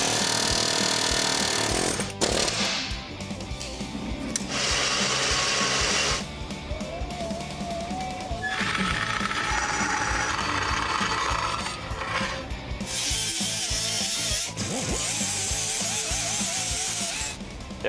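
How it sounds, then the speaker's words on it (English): A power cutting tool grinds and cuts through four rivets holding a bracket on a kingpin Dana 60 axle, a loud continuous whining roar with brief breaks and pitch shifts between cuts, close up. "I think we need to take this bracket off, so that means cut these four rivets"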